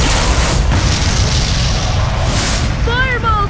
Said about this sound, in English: Fierce bomb.